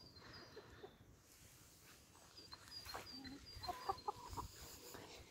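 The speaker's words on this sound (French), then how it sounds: "Coucou les petits poulets." Backyard chickens in a newly built pallet-wood coop, including a speckled Peking bantam, cluck in short soft bursts, growing busier toward the end over a faint background hush.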